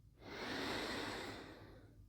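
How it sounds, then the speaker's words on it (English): One slow, deep breath standing shoulder-width apart, a close, soft airy exhale that swells and fades over about two seconds. "And just breathe deeply."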